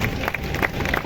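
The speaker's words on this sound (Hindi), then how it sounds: "सबको तालियां बजाएंगे।" A group claps together at a lota-pani welcome ceremony for guests, a short burst of scattered hand claps close by.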